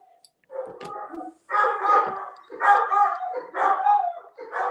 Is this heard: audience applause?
no